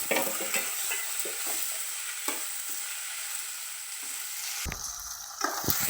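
Sliced ivy gourd sizzles with tomato in a hot pan, a steady frying hiss broken by repeated scrapes and clacks of a spoon stirring, close and fairly loud with no talk.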